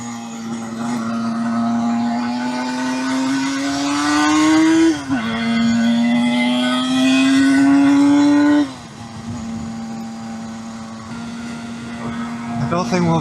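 A Suzuki GT125 two-stroke motorcycle rides along a country road. Its steady buzzing engine note rises through the gears, dips at each shift and carries on at a moderate pace, loud and close, with occasional talk over it.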